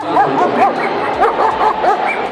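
Trained police dog barking repeatedly, loud close yips and whining barks in an uneven rhythm, with someone speaking faintly beneath them.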